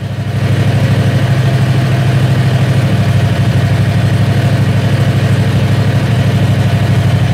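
A Predator 670cc engine idles loudly and close up, a steady low rumble with fast, even pulsing that holds throughout.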